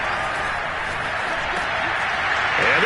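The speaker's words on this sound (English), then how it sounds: "The crowd getting into it as we come up on a big 3rd down." A Madden 22 video-game stadium crowd roars in a steady, broad wash of cheering and applause ahead of a big third down, swelling slightly toward the end.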